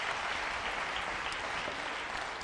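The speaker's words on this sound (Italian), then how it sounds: "fategli un applauso" Steady applause from a studio audience on a local Italian television show, a dense continuous patter of many hands clapping at moderate volume, with no speech on top.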